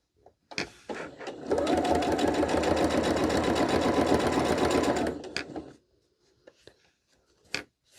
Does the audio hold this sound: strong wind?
no